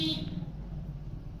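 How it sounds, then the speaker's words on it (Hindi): Car horn honking out on a nearby road, a short loud blast that quickly trails off into steady low traffic rumble. "कौन है ये सड़क पे हॉर्न बजा रहा है"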